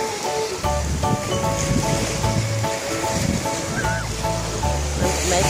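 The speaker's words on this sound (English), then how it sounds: "mainly they're loving being at the beach." Waves wash on an Edinburgh beach in a steady broadband rush with wind noise, while faint voices and other beach sounds come through underneath.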